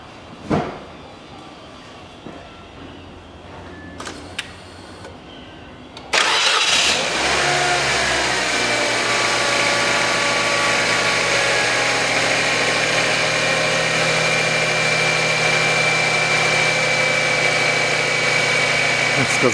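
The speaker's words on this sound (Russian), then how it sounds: "запускаю автомобиль." A 2004 Mazda Demio 1.3 engine cranks and catches after a few quiet clicks, then settles into a steady, loud idle that runs on with a constant hum.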